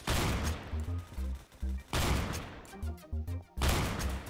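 Gunfire in the Roblox Phantom Forces shooter: loud rapid bursts of automatic shots in three clusters with short pauses between, sharp and close, with no speech over them.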